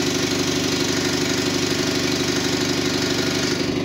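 A Quincy 210 air compressor runs steadily while filling its tank from empty, giving a loud, continuous low chugging hum with a regular knocking pulse and no talk over it.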